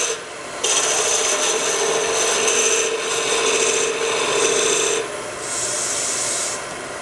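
An oval skew chisel cuts wood on a lathe, producing a steady loud rasping, scraping hiss that shifts in tone partway through and stops briefly near the end, close up with no talk.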